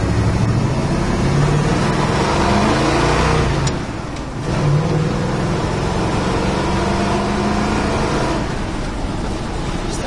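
1968 Ford Bronco on big tires with highway gears pulling along, a loud continuous engine drone from close by that dips briefly and then resumes steadily.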